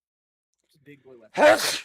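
A single sharp human sneeze bursts out near the end, close and loud, just after brief murmured talk during a tabletop role-playing game session.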